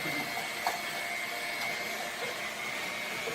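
An electric mixer whirs steadily through cake batter in a home kitchen, a loud even motor drone with faint rattles from the beaters against the bowl.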